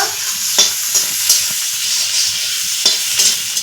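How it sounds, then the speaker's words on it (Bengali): Chopped onion and green chili fry in hot oil with a loud, steady, bright sizzle, close by, while a spoon stirs and scrapes the pan in scattered taps. "তেলে দিয়ে দিব পেঁয়াজ কুচি আর কাঁচা লঙ্কা কুচি একসাথে দিয়ে দেবো দিয়ে একটু লাল করে ভেজে নিব"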